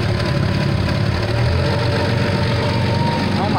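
A car engine burning oil and smoking heavily, idling with a loud, steady low rumble and a faint knock throughout.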